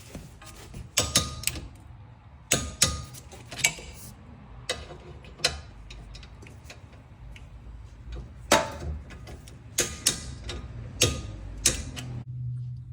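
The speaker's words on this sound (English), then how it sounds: "now torquing the guide pins to 25 foot-pounds" A torque wrench tightens the brake caliper guide pins on a 2016-2021 Honda Civic, making sharp ratcheting clicks in irregular bursts over a quiet workshop background. The clicks are close, and no one speaks.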